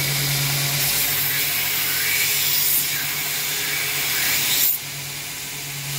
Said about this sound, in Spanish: voy a poner lija 60 y seguimos levantando